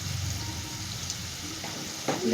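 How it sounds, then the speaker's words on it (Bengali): Potatoes frying in a pan give a steady, soft sizzle, with a couple of brief stirring clatters near the end. "তো দেখো আলুটা ভাজা ভাজা হচ্ছে"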